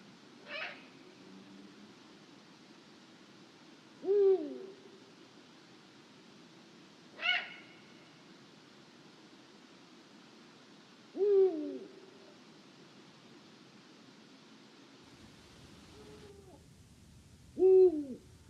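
Eurasian eagle owls hoot at night: about five deep, low calls spaced several seconds apart, each short and rounded, with a fainter higher call mixed in against a quiet, dark background.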